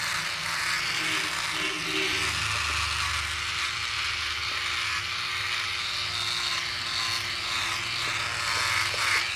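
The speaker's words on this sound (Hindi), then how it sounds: "ड्राई से ड्राई पर बहुत अच्छा काम करता है ये ट्रिमर" A Philips OneBlade QP2525 trimmer runs in a steady electric buzz during dry shaving, with faint scratchy rasping as it moves over stubble, close and alone.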